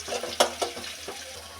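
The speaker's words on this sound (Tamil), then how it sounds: "கொஞ்ச நேரம் வதங்கட்டும்." Bitter gourd sautéing in a little oil in a pan, with a few sharp stir clatters over a low steady frying hiss, fairly quiet and close, no voices.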